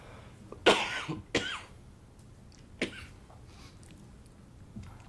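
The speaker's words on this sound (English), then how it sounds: "I'm gonna cough again." Two sharp coughs close together near the mic, then a softer third cough after a pause, with a faint fourth at the end; no talking.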